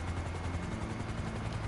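A helicopter in Grand Theft Auto V gives a loud, steady rotor chop that fills the whole short stretch, with no talking over it.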